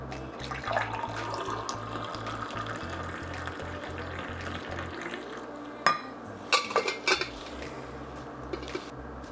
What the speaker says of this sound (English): We're just kind of letting it finish its drip, and then we'll pour ourselves a nice cup of joe.